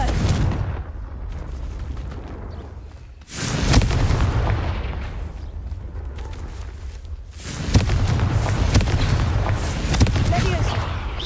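Two big Confringo blasting-spell explosions in Hogwarts Legacy, each a heavy booming roar that hangs on for a few seconds, one after the other, over constant battle noise with a voice casting spells.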